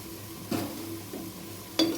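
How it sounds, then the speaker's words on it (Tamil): Tomato with garlic and ginger sautés in a pan for ghee rice, soft sizzling under a low background hum, with two distinct clinks of a utensil stirring against the pan. "இப்போ ஒரு தக்காளி வெட்டி போட்டுக்கோங்க. இதே நல்லா வதக்கிக்கலாம்."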